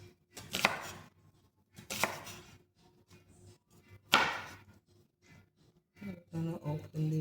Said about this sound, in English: You don't want to chop it too thin. That's good. Just slices.